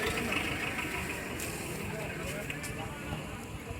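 A 3-speed tractor engine runs at idle nearby with a steady low rumble and faint knocking, while someone talks over it.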